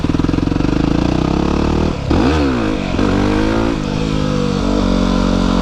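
A Yamaha WR250R motorcycle accelerates hard in second gear on an abandoned drift road, its engine note climbing loud and close, dropping briefly at a shift near two seconds, then rising again in a steady strained rev.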